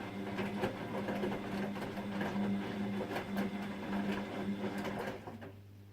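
A washing machine with a software bug runs on with a continuous mechanical whir and rapid rhythmic ticking and clunking, steady for several seconds before the motor noise drops away near the end.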